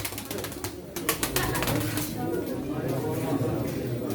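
Soft cooing of pigeons at a Çorum pigeon auction, steady beneath nearby voices and a few sharp clicks and clatters.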